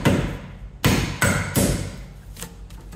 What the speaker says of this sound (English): Another light tap with a locating tool.